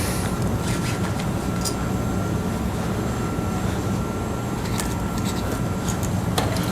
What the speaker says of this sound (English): I wish I could put my YouTube studio further away from my furnace.